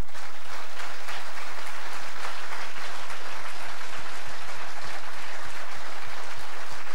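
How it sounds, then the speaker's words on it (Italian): A conference audience at an Indipendenza Veneta event gives a strong round of applause, a loud, continuous wash of clapping filling the whole stretch. "vorrei partire con un applauso forte per tutti i ragazzi di Indipendenza Veneta"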